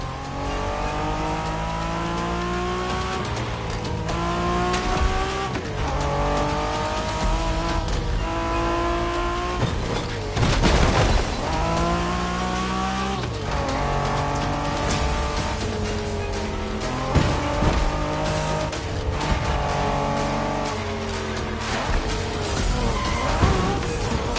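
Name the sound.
Honda NSX sports car racing in video game The Crew Motorfest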